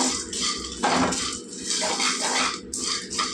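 Nuts and seeds stirred and tossed in a bowl, a continuous gritty rattling and scraping with bursts of louder clatter, close and fairly loud.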